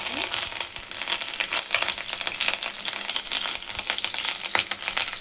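Cumin seeds, green chilies and curry leaves hit hot oil and crackle loudly, with dense popping and spattering bursts that stay close throughout and no talking.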